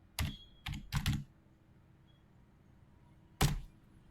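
Several short bursts of typing on a computer keyboard while entering a DESC command in Oracle SQL*Plus: three quick clusters of keystrokes close together, a pause, then one more keystroke cluster, all close and clear.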